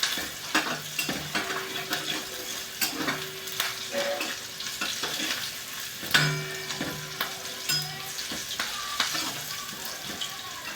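Onion fries in a pan, crackling steadily up close while a spatula scrapes and stirs in uneven strokes, with a few utensil taps and no talking.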